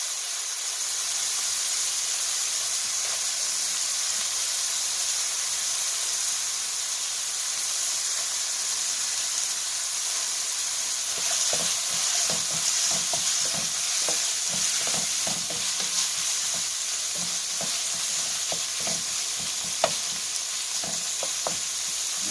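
Onions go into a hot pan with browning hamburger meat, a steady sizzling hiss running throughout, joined midway by a string of scraping, clicking stirs.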